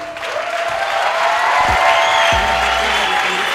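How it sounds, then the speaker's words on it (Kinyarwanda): A crowd bursts into sustained applause for Dudu, a dense, loud wash of clapping that swells and holds throughout. "amashyi menshi cyane kuri Dudu."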